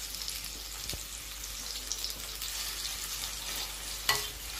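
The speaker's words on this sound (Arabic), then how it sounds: "دابا غادي نخليو البصله ديالنا تشحر مع هاد التويمه" Salted onion sautéing with garlic in a pan for a tongue tagine, a close, soft, steady sizzle with a few scrapes and taps of a utensil, and one sharper clink near the end.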